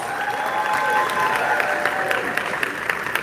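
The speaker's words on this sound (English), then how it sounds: "let's give all of our founders a round of applause" An audience claps for startup founders at a live pitch event, steady applause with a few cheers mixed in and a voice speaking over it.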